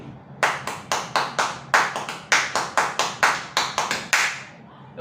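A single person claps hands in a rhythmic demonstration of how clapping makes music, about sixteen sharp, close claps in an uneven pattern of singles and quick pairs, with brief gaps between.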